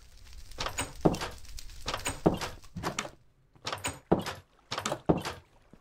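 Minecraft doors of different kinds open and close repeatedly, a series of about nine sharp wooden or metallic thunks, mostly in quick pairs, with brief pauses between them.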